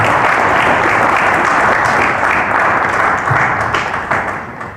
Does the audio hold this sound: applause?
yes